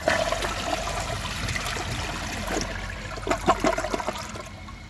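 A 2011 Vortens Vienna toilet flushes with a steady rushing swirl of water that trickles and gurgles toward the end, close and moderately loud with no voices.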